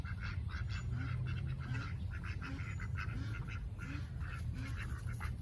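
Ducks quack repeatedly in a farmyard where chickens roam loose, a steady run of nasal calls at moderate distance over a constant background hum, with no talking.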